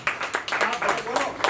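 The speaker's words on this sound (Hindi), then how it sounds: "तालियां होनी चाहिए जोरदार" Audience applause at a song launch event for a musical album, a burst of clapping with rhythmic peaks over a short stretch, with speech mixed in.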